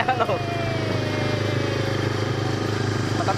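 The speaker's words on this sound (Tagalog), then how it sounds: "Traktor! Traktora!" A tractor engine on a potato farm in the Czech Republic runs steadily close by, a loud, even rumbling drone that never lets up, with no talk over it.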